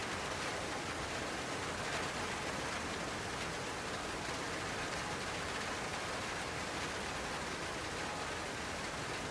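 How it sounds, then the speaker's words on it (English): Rain falls steadily over an outback Australian campsite, a dense, even hiss of drops with no breaks or changes in strength, and no voices. "Nice little bit of rain coming through"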